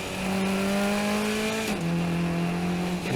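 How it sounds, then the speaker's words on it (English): Race car engine held high in first gear at Summit Point, then a sharp drop in pitch at the upshift to second, the engine droning steadily and loud with no talk over it. "you can hear the huge jump as I go from first to second"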